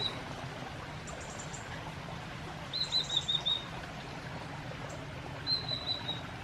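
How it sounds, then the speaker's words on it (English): A single songbird outdoors sings two brief, high chirping phrases a few seconds apart, fairly distant over a steady background of wind or flowing water. "Does anyone know what that bird is?"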